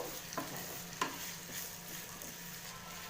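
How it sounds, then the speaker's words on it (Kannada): Grated pumpkin frying in a pan for pumpkin rice, a soft steady sizzle with two faint stirring clinks of a spatula against the pan, close and quiet, with no talking. "ಕುಂಬಳಕಾಯಿ ಹಸಿ ಸ್ಮೆಲ್ ಹೋಗಬೇಕು, ಅಲ್ಲಿವರೆಗೆ ಚೆನ್ನಾಗಿ ಒಂದು 10 ನಿಮಿಷ ಫ್ರೈ ಮಾಡ್ಕೋಬೇಕು"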